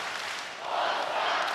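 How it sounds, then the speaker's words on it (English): Volleyball arena crowd at a Brazil vs Poland match cheering, a broad continuous roar that swells louder partway through and holds steady to the end. "Oh, crowd's going."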